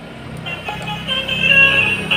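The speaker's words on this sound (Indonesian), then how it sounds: "Wah, ada bus Tayo telolet teman-teman" A Tayo toy bus sounds its telolet horn, a bright tooting melody rising in volume over a low electronic hum, with no talking.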